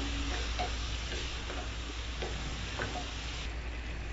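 Vegetables stir-fried on high flame in a pan with a few drops of Worcestershire sauce, giving a steady sizzle with periodic clinks and scrapes of a utensil tossing the food.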